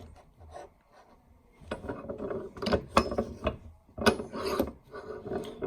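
An arbor press (1 ton) pushes a punch through a coin, producing close, uneven metallic ratcheting clicks and grinding creaks in irregular bursts that grow louder partway through.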